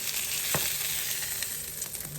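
Chicken browning in butter in a frying pan sizzles steadily and close up, a dense continuous crackle with a couple of brief utensil scrapes and no voices over it.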